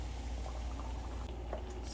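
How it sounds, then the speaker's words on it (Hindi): Tadka tempering poured into broccoli saag, giving a quiet, steady bubbling sizzle that holds evenly throughout with no talking. "अब इसको लगाते हैं तड़का"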